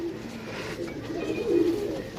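Domestic pigeons, offered for sale as breeding pairs, coo steadily in a low, rolling murmur close by, with one fuller coo rising near the end and no voices over it.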